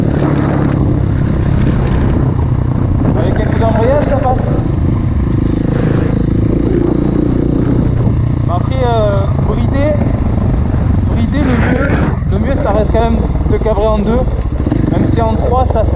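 A Husqvarna 701 motorcycle engine revs and climbs in pitch during a wheelie, loud and close with heavy wind rush, while a rider talks over it.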